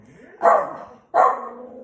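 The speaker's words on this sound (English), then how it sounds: "Sorry about my dog." A dog barks twice indoors, two loud, close woofs about three-quarters of a second apart.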